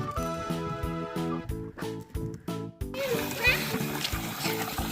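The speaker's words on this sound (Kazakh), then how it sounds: "суды толтырып қоямыз. Бұзаулар, сиырлар келіп осы жерден су ішеді" Water pours into a drinking trough for calves and cows at a village home, a continuous close splash and slosh starting midway after a stretch where a voice is heard, then running steadily to the end.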